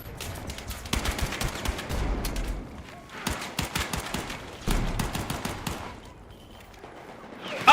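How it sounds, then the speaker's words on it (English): Flashbang grenade in a video game amid gunfire: repeated sharp bursts and bangs in clusters, fairly close, with a sudden louder hit at the very end. "Wait, that's a flashbang!"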